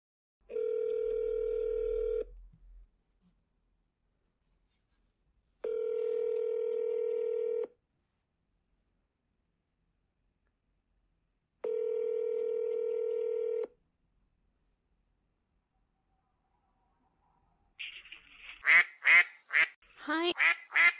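Three long steady telephone dial tones separated by pauses, followed by a quick run of dialing beeps before a phone call, all alone with no talk.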